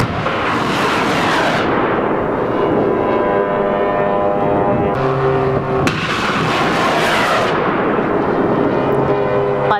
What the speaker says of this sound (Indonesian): Pasukan Garda Revolusi Islam Iran kembali menyerang pangkalan Ali Al-Salem di Kuwait milik Amerika Serikat.